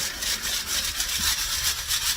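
Potting soil is sifted through a sieve over an empty pot, giving a close rhythmic scratchy rasping of grains shaken back and forth in quick repeated strokes.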